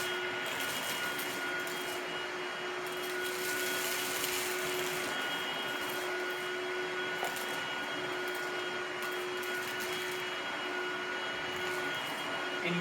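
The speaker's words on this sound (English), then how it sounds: "Very quiet vacuum. Probably the quietest one I've filmed tonight." Lindhaus Valzer L-ion HEPA Digital Pro cordless upright vacuum cleaner running steadily, a continuous, fairly quiet airy hum with faint whining tones, unbroken and alone with no talking.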